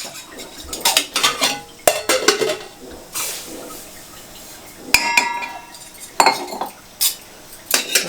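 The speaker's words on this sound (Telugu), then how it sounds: "దీంట్లో రవ్వ వేయించుకుంటా గోధుమ రవ్వ ఇది ఉప్మా వేయించుకుంటా" Wheat rava roasts in a pot on a stove for upma while a metal spoon stirs and scrapes it, producing bursts of clinking and scraping with short pauses between strokes, with faint sizzling underneath.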